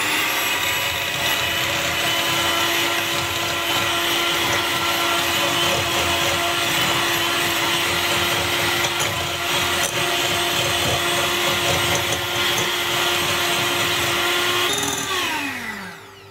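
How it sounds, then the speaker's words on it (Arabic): Electric hand mixer beating eggs for coconut semolina cakes, a loud steady whirring motor hum with a grinding texture, running continuously before winding down and stopping at the end. "يمكن لكم ديروهم في المولينكس اولا تطربوا بالخلاط اليدوي"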